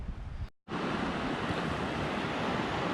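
Water rushes steadily in a small creek flowing past a campsite toward a river on an autumn off-road camping trip in Canada, a loud continuous broadband wash with a brief dropout near the start.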